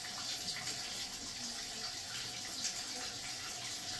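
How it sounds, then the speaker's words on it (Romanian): Water from a barrel pours steadily into an automatic washing machine that has no mains connection, a continuous close rushing and splashing flow that stays even throughout with no talking. "dăm drumul la apă"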